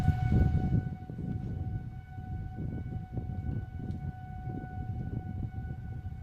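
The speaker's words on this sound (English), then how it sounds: "you can hear the tornado sirens currently going off" Tornado sirens wail steadily in the distance during a severe weather warning in Champaign, a sustained tonal drone carried over low rumbling background noise with no voices.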